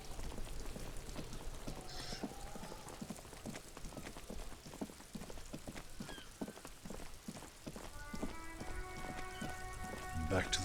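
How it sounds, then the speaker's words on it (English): Rain falls steadily in the video game Disco Elysium, a soft continuous patter mixed with clip-clopping and other game sounds, with a musical tone rising near the end. "It's raining again."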